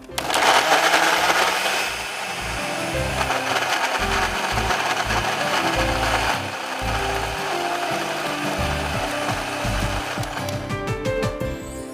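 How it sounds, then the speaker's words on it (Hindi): A blender blending tomatoes whirs and grinds loudly for several seconds, with a rough, rattling mechanical churn and pitch shifts as the contents break down. "इसी ब्लेंडर से हमें फिर टमाटो ग्रेवी को भी पीसना है ना।"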